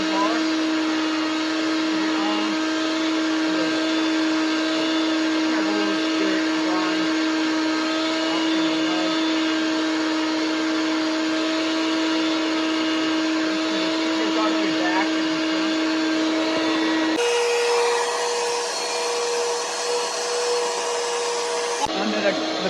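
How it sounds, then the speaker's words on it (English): A vacuum cleaner runs continuously while cleaning a car interior, a loud steady whine with a sustained tonal hum that shifts pitch partway through as the nozzle or airflow changes, then settles back. "I'm going to start vacuuming"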